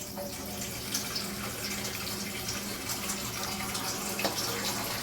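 Water splashes into a pot of basmati rice and chickpeas while cooking channa pulao, a steady close trickling and gurgling with a few small clinks, no speech.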